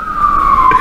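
A siren on an emergency vehicle passing along a Baltimore street, one steady wailing tone sliding slowly downward as it goes by, loud and close with faint road rumble beneath.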